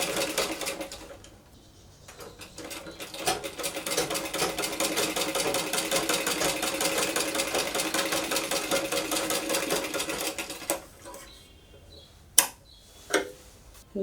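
A sewing machine stitches a baby's body frock, its fast, even mechanical chatter running steadily for several seconds, then stopping, followed by a few sharp clicks and handling noises nearby.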